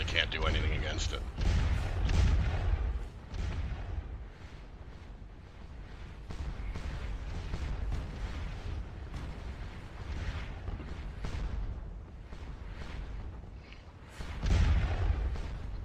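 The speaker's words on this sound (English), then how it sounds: "this battery has been firing for a long time" Napoleonic artillery battery firing in Scourge of War Waterloo at the Battle of Ligny: deep, heavy booms open and close the stretch, with a steady low rumble of distant battle in between.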